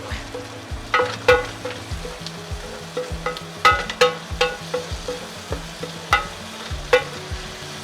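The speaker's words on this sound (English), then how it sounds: "you can go ahead and add your garlic. Lots of garlic" Garlic sizzling in a hot pan for chicken adobo, a steady frying hiss broken by repeated sharp scrapes and clinks of a utensil stirring against the pan, close up with no voices.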